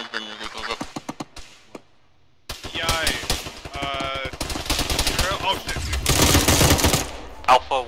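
Automatic weapon in a video game firing bursts of five, rapid clustered cracks that grow louder and denser toward the end, mixed with a speaking voice near the start.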